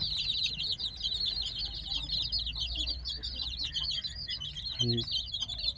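Backyard chickens, including growing young birds, cluck and chirp steadily while being fed, a busy layered flock chatter close by with a brief louder call near the end.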